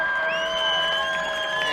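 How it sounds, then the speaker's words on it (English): A college football crowd at a Division III game roars after a rushing touchdown, a sustained loud wash of cheering and whoops with shrill whistles and high tones sliding over it. "And the crowd has not lessened its energy."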